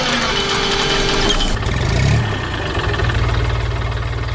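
A tractor hauling hay: its loud, close engine runs continuously with a deep rumbling throb, its tone shifting partway as it revs slightly and settles.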